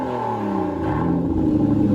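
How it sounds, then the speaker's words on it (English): The V12 engine of a 2015 Aston Martin Vanquish with a carbon fiber body revs close by, a loud, rumbling pitch climbing and then settling into a steady growl over two seconds. "he's going to rev the Vanquish for me"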